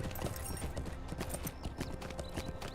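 Horse hooves clip-clop in steady rhythm in the online game LOTRO, a clear close trotting beat with no voices over it.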